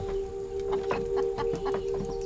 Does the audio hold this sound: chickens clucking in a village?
yes